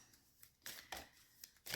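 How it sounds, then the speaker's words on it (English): A deck of dream oracle cards is shuffled by hand in a few quick soft riffling bursts, close and faint, in a quiet room. "I'm going to go ahead and shuffle these dream cards"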